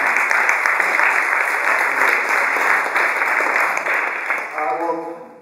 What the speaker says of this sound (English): another round of applause for Mariusz